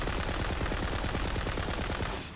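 Rapid automatic gunfire from a gun in Tiny Tina's Wonderlands, a dense, loud, evenly spaced burst of shots lasting about two seconds before cutting off.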